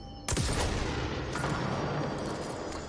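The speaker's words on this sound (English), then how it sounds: "So it is like a rocket launcher." A rocket-launcher-style weapon fires in the game Control: one sharp, loud blast opens the clip, followed by a sustained rumbling roar and a few fainter crackling bursts, with no voices.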